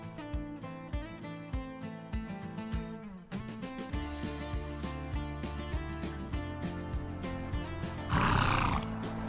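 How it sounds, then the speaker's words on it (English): Wild horses near a parking lot in the Arizona desert by Goldfield, with a loud, sustained whinny carrying over a steady, dense bed of sound and a brighter burst near the end. "As we were heading back right by the parking lot, these horses were everywhere."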